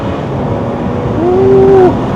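A tuned F15 BMW X5 xDrive35i, a six-cylinder rated at 390 whp and 600 Nm, climbs a mountain road in Malaysia with a brief rising engine tone over loud, steady wind and road rumble.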